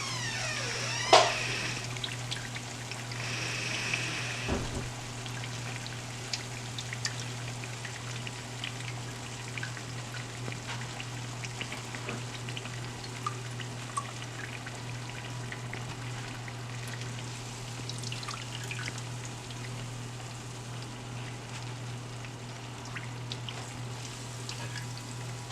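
Akara fritters of cod and green plantain fry in hot oil with a steady, close crackling sizzle that carries on throughout, broken by a few louder pops and spatters near the start.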